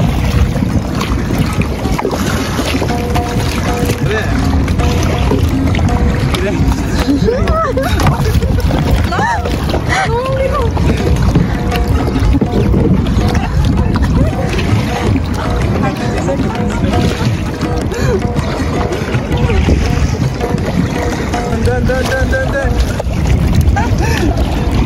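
A boat motors across water in Adana, Turkey, with a steady engine drone and splashing, while people talk over the noise throughout.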